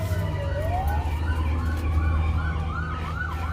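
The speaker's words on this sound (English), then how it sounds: "Ambulance, fire truck, they got a whole crew going." Ambulance and fire truck sirens passing on a street in Ohio, their wailing, sweeping tones rising and falling over a steady traffic rumble at moderate distance.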